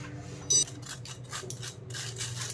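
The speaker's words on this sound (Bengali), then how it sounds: "এই সব কিছু ছাঁকনি দিয়ে ভালো করে একটুখানি মিশিয়ে নেব যাতে কোনো লাম্পস না থাকে" Cake flour and baking powder are sifted through a metal sieve for an eggless chocolate cake, giving soft rhythmic scraping and rasping strokes with one brief clink near the start, close and quiet.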